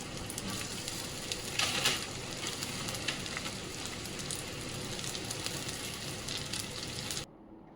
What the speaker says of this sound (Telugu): మళ్ళీ అదే ప్యాన్లో ఇంకొంచెం ఆయిల్ వేసి ఒక హాఫ్ కేజీ బెండకాయ ముక్కల్ని వేసుకోవాలి